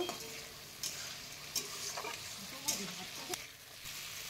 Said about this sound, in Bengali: দিয়ে দিচ্ছি একটু লঙ্কার গুঁড়ো, খুব ভালোভাবে কষিয়ে নেব।